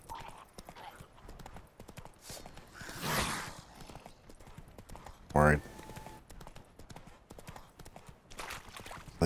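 Horse hooves clip-clop steadily while riding in a video game, a continuous rhythmic patter under talk, with a brief louder whoosh and a sharp burst midway.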